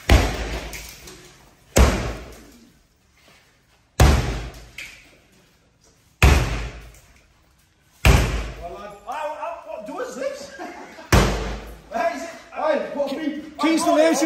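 Heavy banging and slamming on a door, loud separate thuds with rattling, a few seconds apart, followed by shouting voices over later impacts.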